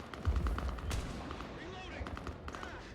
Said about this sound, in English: There's a lot of shooting.